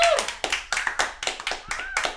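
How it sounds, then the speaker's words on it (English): Several pairs of hands clap in a quick, uneven burst, close by, at an open mic event, with loud voices cheering over the top. "Please give another round of applause"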